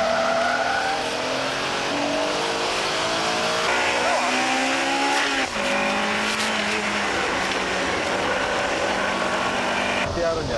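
An Integra Type R chases an FTO R on a racetrack in a front-wheel-drive sports car battle, engines screaming at high revs with tire squeal and shifting pitch, continuous and loud beneath excited commentary.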